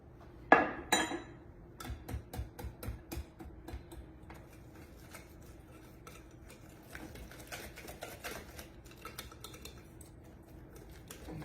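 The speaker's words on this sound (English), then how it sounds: "And just whisk, whisk, whisk." A whisk beats Jezebel sauce made with ground mustard in a bowl, giving quick, light clicking strokes against the bowl in short bursts, faint and close, without talk.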